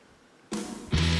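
Two rhythm electric guitars for a video game cover, panned to opposite sides, entering one after the other in a brief, loud, close burst of sustained chords.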